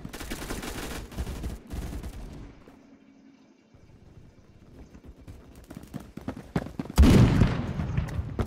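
Bursts of automatic gunfire from a Roblox Phantom Forces match, loud clustered shots at the start, a lull in the middle, then a sharp heavy volley near the end.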